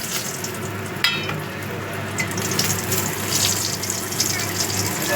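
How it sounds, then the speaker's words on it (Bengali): Lentil dumplings (bori) frying in oil in a pan after fish, a continuous hissing sizzle with a faint low hum beneath and a brief clink near the start, with a little background talk. "মাছগুলো ভাজা হয়ে গেছে এবার বড়িগুলো বেজে নেব"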